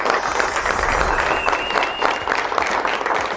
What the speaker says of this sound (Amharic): ሁሉንም ሞቅ ባለ ጭብጨባ ወደ የቦታቸው እንሸኛለን